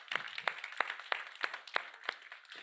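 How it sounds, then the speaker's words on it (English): Sparse, rhythmic clapping from a small group at a youth food innovation event, with about eight evenly spaced, distinct claps, faint and somewhat distant. "Another round of applause."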